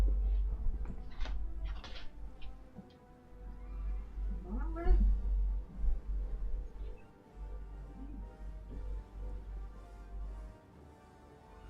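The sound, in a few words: pet cat meowing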